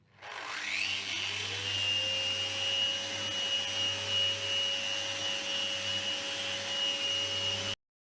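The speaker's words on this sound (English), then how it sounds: "we're now going to use a random orbital sander with a 150 grit sandpaper and start to sand that" A random orbital sander fitted with 150 grit sandpaper runs steadily on a Mirostone surface, smoothing a glued joint. It starts up quickly into a loud, constant whir with a high whine and a low hum, then cuts off abruptly.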